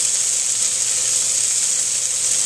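Salmon fillet frying in a pan, with a continuous bright sizzle and hiss of hot oil, close and steady, with no talking over it.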